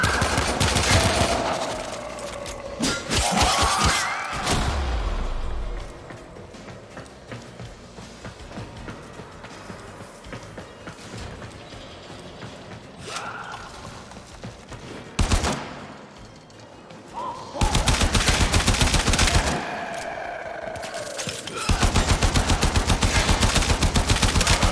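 Starter rifle gunfire in a shooter video game, repeated loud bursts of shots in several clusters with quieter stretches of game sound between them.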